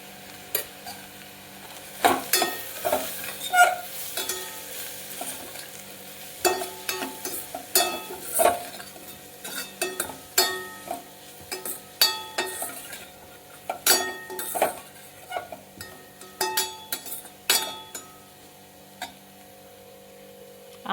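Bitter gourd curry with chillies and turmeric is stirred in a pan over a steady sizzle, with irregular scrapes and clinks of a spoon against the metal and no talking.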